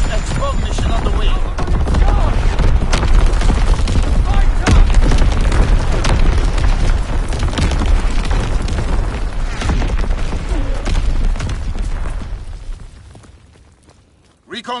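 Loud, dense barrage of artillery strike explosions in Call of Duty WW2 gameplay, continuous booming and rumbling for most of the stretch with sharp blasts, then fading near the end before one final burst.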